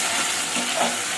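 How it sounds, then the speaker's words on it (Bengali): Potatoes frying in a pan at home give a steady close sizzle with faint stirring scrapes, continuous and fairly loud throughout. "আলু ভাজা হচ্ছে গোগলের জন্য।"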